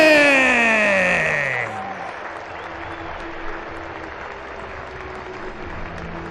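A cricket crowd at a Lancashire Lightning versus Northamptonshire Steelbacks T20 match applauds steadily as the team takes the pitch, a broad wash of clapping that follows a fading musical flourish and settles into ongoing crowd noise.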